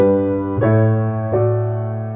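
Sustained piano chords ringing out, moving through two changes over a low bass note, resolving to D with A in the bass, the last chord held and slowly fading.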